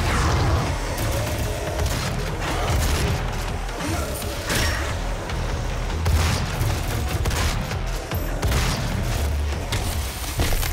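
Dense, continuous gunfire and booming explosions from the video game DOOM (2016) fill the whole stretch, loud and chaotic with overlapping shots.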